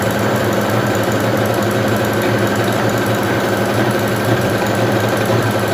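A sewing machine runs steadily while stitching a blouse hem, a loud, close, continuous mechanical whir and rapid needle chatter with no pauses.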